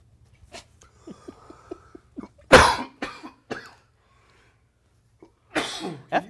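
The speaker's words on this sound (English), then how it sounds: "I was coughing" A person coughing hard at close range, a loud harsh burst followed by a few shorter coughs, then another heavy fit after a pause, with light breathing and small vocal sounds in between.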